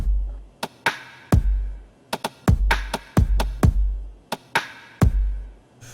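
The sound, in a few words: original drum pattern playing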